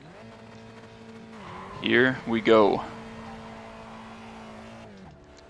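Spec Racer Ford race car in iRacing at Tsukuba, fitted with a fresh motor: a steady, close engine drone hums throughout, while a voice briefly speaks over it mid-clip.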